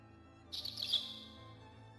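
A single bird chirp rings out in a fantasy audio drama scene, a bright burst of tweets midway through over a low steady background hum, with no talking.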